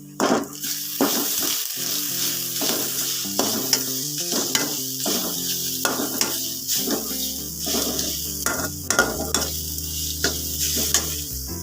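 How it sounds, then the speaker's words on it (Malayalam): Spinach and crushed coconut for a Kerala-style cheera thoran being stirred in a hot pan, a continuous close sizzle with repeated scraping strokes of the spoon across the pan. "അതിലേക്ക് നമ്മൾ നേരത്തെ ചതച്ച് വെച്ച് നാളികേരത്തിൽ വെച്ച് അത് ചേർക്കാം. ഇത് മിക്സ് ചെയ്യാം."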